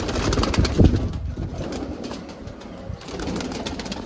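Pigeons coo softly close by, low throaty calls repeating over a faint background hum.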